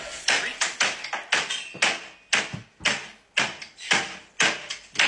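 Sharp knocks strike a door in quick irregular clusters, about a dozen loud raps spread across a few seconds with short pauses between groups, close and dry with no talking.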